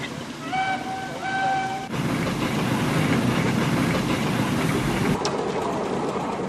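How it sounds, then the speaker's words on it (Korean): An old steam engine rumbles and chugs loudly in a heavy, continuous mechanical roar, preceded by a short whistle-like tone that cuts off abruptly. "이때 등장한 것이 증기 엔진"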